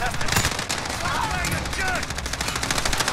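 Rapid automatic gunfire in a close-quarters Call of Duty Modern Warfare match on the Shipment map, dense bursts of shots rattling continuously near and loud, with a voice talking over the shooting.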